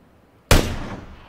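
A single sharp, loud gunshot cracks after a quiet moment and its echo decays over the hilly terrain, with the onset of a second shot cut off at the end.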